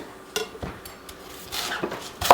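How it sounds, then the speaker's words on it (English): Knife work on an onion for chili, with light taps, scrapes and rustles of skin on a cutting board, a few sharp clicks scattered through, close and fairly quiet. "do the same thing with my onion, cutting up the top and the bottom, and then removing the outer skin"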